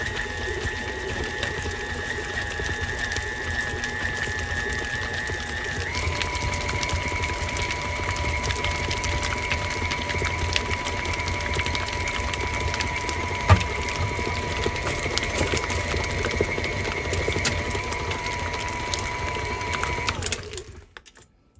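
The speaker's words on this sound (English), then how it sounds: "And then we're going to blend all this together." Food processor whirring as it blends dried beef into a cream cheese cheeseball mixture: a steady motor hum that steps up in pitch early on, runs for about twenty seconds, then cuts off.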